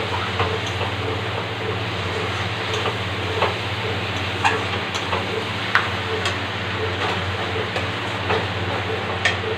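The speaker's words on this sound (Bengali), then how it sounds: "এইভাবে মশলার সঙ্গে কিছু সময় কষিয়ে নেব" Whole spices and fish head cooking in oil in a pan for a Bengali chana dal dish, with a steady broadband sizzle and occasional stirring clicks, plus a constant low hum.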